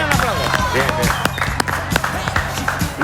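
Bar crowd clapping and cheering in a Spanish talk-show setting, a loud dense burst of applause with whoops and scattered voices throughout.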